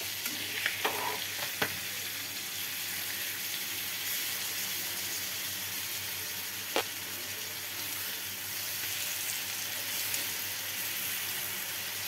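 Chicken liver (kaleji) frying in a pan, a constant quiet sizzle with a few faint clinks and scrapes, steady and close, with no talking.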